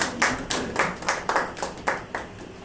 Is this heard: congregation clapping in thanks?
yes